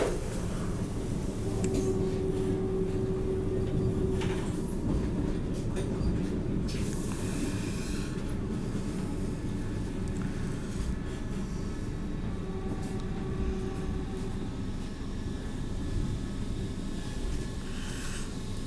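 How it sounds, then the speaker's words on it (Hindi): Steady rumble of a Vande Bharat AC chair car express running at speed on the Gorakhpur–Prayagraj route, heard from inside the coach as continuous broadband noise with faint tonal whines, no talk. "वाओ, क्या ज़बरदस्त रफ्तार पकड़ ली है ट्रेन ने निकलते ही।"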